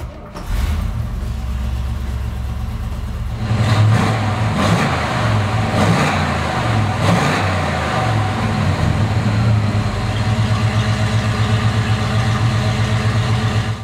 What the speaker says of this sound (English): how about I fire it up for you so you can hear what it sounds like.